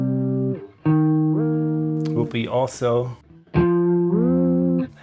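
Electric guitar through a whammy effect set to bend notes up by less than an octave, sustained notes sliding upward in pitch, broken midway by a short spoken phrase before the playing resumes.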